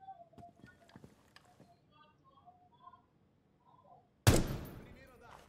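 A single loud gunshot with a sharp attack and a decaying tail bursts out in Rainbow Six Siege, following a stretch of faint game sounds and brief muffled voices.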